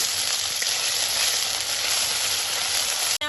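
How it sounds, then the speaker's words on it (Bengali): Dried red chillies, cardamom and cloves hit hot oil in a pan with a steady, loud, even sizzle that holds throughout before cutting off with a brief click at the end. "তেলে দেব চারটে শুকনো লঙ্কা এলাচ আর লবঙ্গ"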